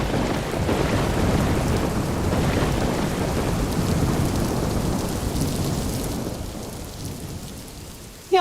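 Steady heavy rain with rumbling thunder, a dense, continuous loud downpour that fades slightly toward the end, with no voices.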